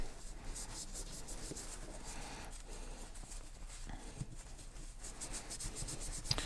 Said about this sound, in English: we're probably going to spend a couple minutes just on this section cleaning this out